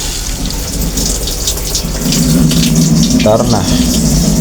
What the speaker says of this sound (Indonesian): Sini proses pengisian air dari inlet juga sudah jalan